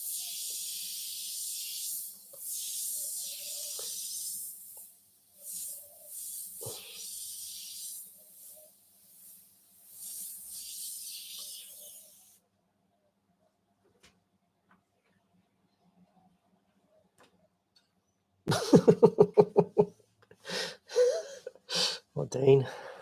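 An airbrush sprays paint on an eagle artwork in repeated short hissing bursts of varying length, then falls silent for several seconds before a person begins talking.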